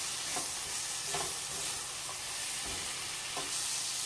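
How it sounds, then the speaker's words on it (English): Spices and vegetables for shrimp fajitas fry with a steady, close sizzle in a single pan, while a utensil scrapes and stirs through them in occasional strokes. "I cooked the spices and the vegetables for like 30 seconds"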